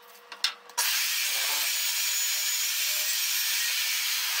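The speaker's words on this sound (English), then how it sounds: "turn on your magnet and bore the hole" A magnetic drill bores a hole through steel plate for a welding fixture table, starting after a few faint clicks and then holding a steady, loud, hissing cutting whine close by.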